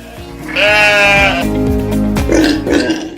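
A urial wild sheep bleats in a loud, wavering cry lasting about a second, followed by lower grunting calls, close and clear with no talking.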